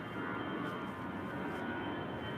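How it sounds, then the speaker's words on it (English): Airplanes pass overhead outdoors, a steady, broad, distant roar that holds at an even level throughout without any voices. "Planes. Sometimes they sound they're a little bit closer than they are."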